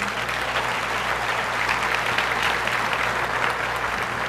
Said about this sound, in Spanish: Amén, dele un aplauso a Dios.